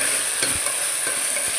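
Chopped tomatoes sizzle steadily in a hot pan while a utensil stirs and scrapes through them a few times, close and fairly loud.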